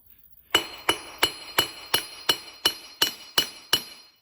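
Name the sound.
hammering metal while making a miniature poleaxe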